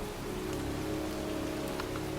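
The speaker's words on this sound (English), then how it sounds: "standing in a cemetery in pouring rain" Pouring rain falls in a cemetery in the video game Heavy Rain, a steady close hiss with a faint low drone running beneath it.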